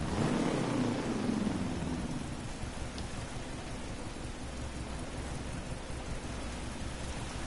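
Steady wash of rain noise in the racing game DriveClub with a low rumble underneath, constant and fairly loud throughout, no voices.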